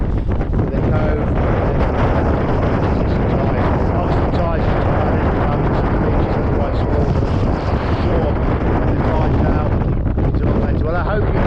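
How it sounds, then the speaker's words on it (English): Strong wind buffets the microphone on a seaside harbour and beach outing in St Ives, Cornwall, a loud continuous roar and rumble filling the whole stretch with no break. "The wind is taking my breath away."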